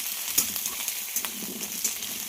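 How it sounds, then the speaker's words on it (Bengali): Diced potatoes and pointed gourd frying together in a pan of oil: a soft, steady sizzle with scattered light crackles and pops, heard close up with no voices. "আমি এখানে আলু পটল একসঙ্গে ভেজে নিচ্ছি"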